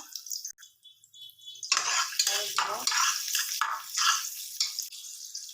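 Onion and garlic fry in a pan for restaurant-style Chinese fried rice, a soft continuous sizzle with spatula scraping and stirring, close but fairly quiet, with no talking.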